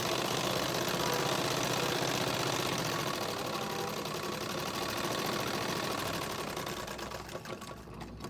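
A sewing machine runs steadily as it stitches an additional line of stitching on the front of a sharara to hold the elastic, a loud continuous whirring buzz that eases off near the end.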